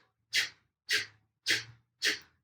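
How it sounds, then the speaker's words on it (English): Four short, sharp breath bursts forced out through the nose during a breathing exercise, evenly spaced about half a second apart, close and clear with silence between them. "we're going to let it go through the nose in short, sharp, forceful exhales."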